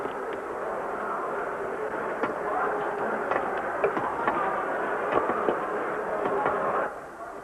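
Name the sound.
train departing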